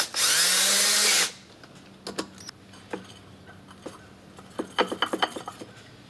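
A power tool tightens bolts on the secondary clutch of a Grizzly 700 ATV during a drive belt change. One loud, close burst lasts about a second, then scattered light metallic clinks and taps follow.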